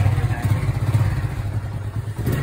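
A motorcycle carries riders along a village road, its engine giving a steady low rumble with slight rhythmic pulsing, close and moderately loud, with wind rush and no talking.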